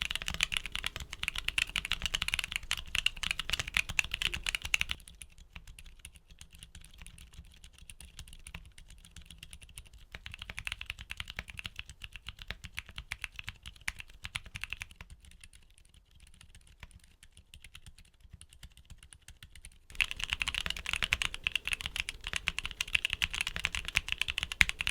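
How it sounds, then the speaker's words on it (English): Back-to-back typing tests of several Gazzew keyboard switches produce continuous close keystroke clatter, louder and brighter at the start and end and noticeably softer through a quieter middle stretch. "Now, here are back-to-back sound tests of all the switches we covered today."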